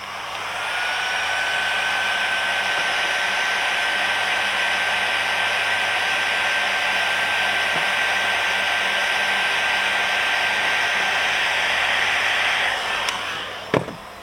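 A heat gun blows steadily on a plastic rivet of a Peugeot 207 door trim panel, a loud continuous whooshing drone with a thin whine that holds for about twelve seconds before switching off.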